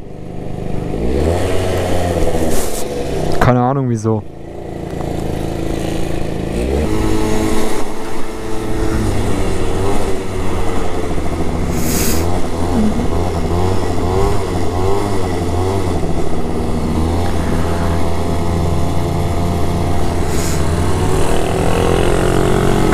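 A motor scooter's engine revs high and stays pinned near its limiter, a loud, close, steady droning whine that climbs and holds for the whole stretch, with a few brief spoken words early on.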